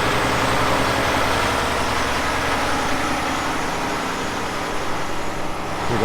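A loaded Peterbilt rig's diesel engine rumbles steadily nearby as the truck pulls out, a continuous low idle-to-drive drone with no voices over it.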